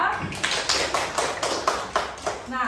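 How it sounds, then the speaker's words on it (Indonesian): Classroom applause for a student group in a school lesson, a short run of evenly spaced claps, close and fairly loud, with a voice briefly audible alongside. "beri tepuk tangan untuk kelompok 2"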